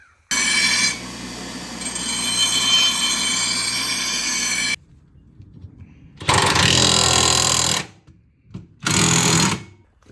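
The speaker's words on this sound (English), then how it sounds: "we're going to start it up and check the level again" A riding lawn mower engine runs after an oil change in a farm barn, giving a loud, steady drone for several seconds. After a pause come two separate, louder revving bursts.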